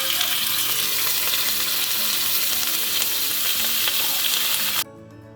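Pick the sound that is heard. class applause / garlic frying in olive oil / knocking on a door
garlic frying in olive oil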